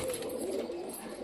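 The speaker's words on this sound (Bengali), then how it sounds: "ওই দেখো আমাদের নতুন পায়রা দুটো একদম দরজার সামনে চলে এসছে" Two pet pigeons near a doorway give a soft, low, rolling coo, one short murmuring call heard close by against quiet background.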